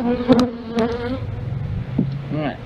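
Honey bees crawling on a frame pulled from a ten-frame hive, a close, continuous droning buzz with wavering pitch and a few louder individual bees passing by.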